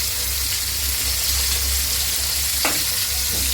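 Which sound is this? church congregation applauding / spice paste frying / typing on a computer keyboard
spice paste frying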